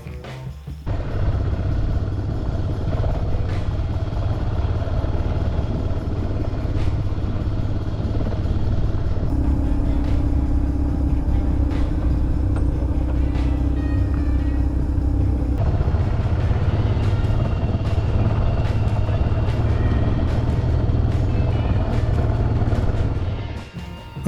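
An adventure motorcycle rides a festival trail with a loud continuous engine drone that rises and falls with throttle, along with rumbling wind and clattering from the rough ground.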